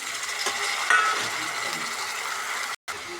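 Onion and mixed vegetables frying in a pan for a veg pulao, a soft continuous sizzle with light stirring scrapes, close and moderately quiet, with no talking.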